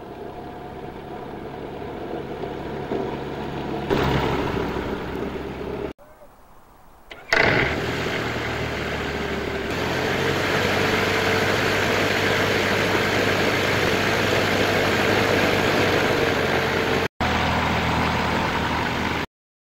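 Steady loud engine drone of a light airplane on a sideslipping landing approach near Mt. Shasta, a continuous heavy rumble with wind noise, dropping briefly partway through before returning.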